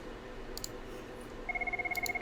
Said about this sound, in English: Oh, my office phone's ringing.